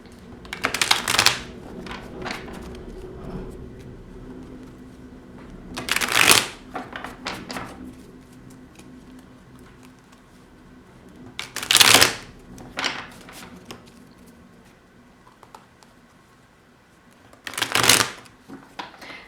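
Tarot cards being shuffled during a card reading, four loud riffling bursts spaced several seconds apart with quiet handling between them and no talking.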